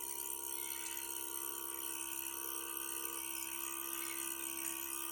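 A milking machine vacuum pump builds suction on a stand used for Kiko goats, making a steady, faint mechanical hum with a high whine and no breaks.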